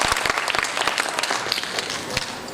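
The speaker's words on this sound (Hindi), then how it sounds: "इसके लिए जोरदार तालियां भरत के लिए।" An audience at a motivational seminar breaks into steady applause for a participant, with dense overlapping claps filling the whole stretch at an even level.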